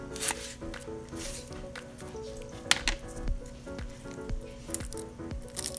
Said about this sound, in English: Just cut off the ends.